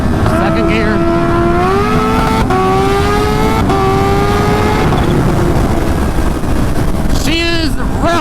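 A Kawasaki Ninja H2 motorcycle accelerates hard in second gear, its loud engine note climbing steadily in pitch close by, with a brief rise again near the end.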